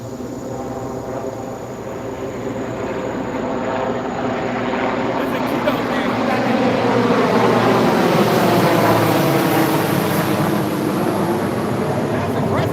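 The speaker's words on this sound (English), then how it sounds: "That's a presidential chopper." Presidential helicopter flying overhead, a loud whirring rotor and engine drone that slowly builds and then holds steady as it passes close above.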